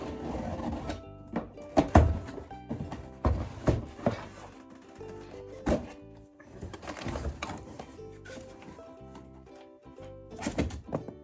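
Cardboard box of a Vax Compact Power carpet cleaner being opened up close, with irregular thumps, scrapes and rustling of packaging as parts are pulled out, loud and uneven throughout.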